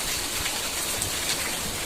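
Rain falling steadily outdoors, a soft continuous patter and wash at moderate level with no voices, lasting under two seconds.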